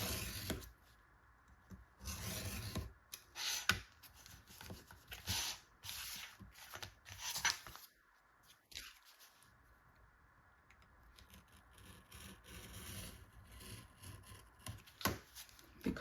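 Thick cardboard is trimmed for a junk journal, giving repeated rough scraping and rubbing strokes in irregular bursts, close and fairly quiet, with pauses between passes.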